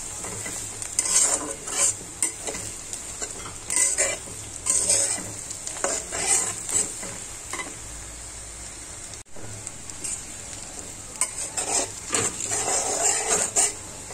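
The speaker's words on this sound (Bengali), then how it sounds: "দিয়ে এটার সাথে আমি একটু ভেজে নিব।" Chopped onions fry in hot oil with cardamom, cinnamon and bay leaf, giving a steady close sizzle broken by repeated scraping stirs of a spoon against the pan.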